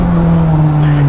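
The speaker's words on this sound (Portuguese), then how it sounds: "Essa moto é muito, muito bonita, esse barulho sem catalisador." A Honda Hornet motorcycle running without a catalytic converter gives a loud, close, steady engine drone with a strong low hum and a gritty exhaust rasp throughout.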